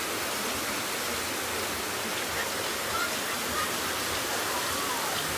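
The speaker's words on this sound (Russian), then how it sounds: "Вот такой жуткий поток." A torrential flash-flood stream of rainwater rushes down from the mountains into Gurzuf, Crimea, after a downpour. It makes a steady, loud, broadband roar of churning water that continues without pause and with no voices.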